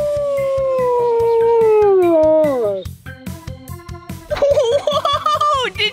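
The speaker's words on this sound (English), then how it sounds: "that was a howling wolf" A wolf howls in a long, loud, sustained note that slides slowly downward, then breaks off into shorter yips and rising calls from more than one animal, with soft rhythmic music playing underneath.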